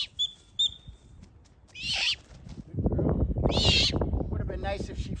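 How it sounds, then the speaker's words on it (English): A young great horned owl at an outdoor bird show on a farm in New Canaan, Connecticut gives a few short calls and two harsher, raspy screeches, while people talk in the background. "So here we have a young great horned owl"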